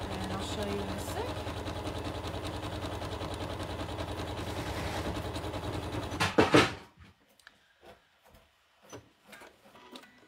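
A sewing machine zigzag-stitches a jelly roll rug in a steady, loud mechanical rattle for several seconds, then stops abruptly, leaving a few faint clicks and handling knocks.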